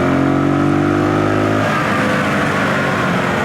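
A Zontes G125 (ZT125 G1) motorcycle engine revs hard, a loud close tone that climbs steadily and then breaks into a rougher, busier roar at high RPM.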